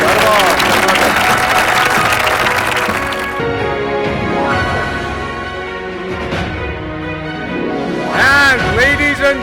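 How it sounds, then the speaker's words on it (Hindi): An audience at the Dharti Mitr Awards 2022 felicitation ceremony gives loud, sustained applause for an award winner, while an announcer's voice and music carry over the clapping. "जोरदार तालियां"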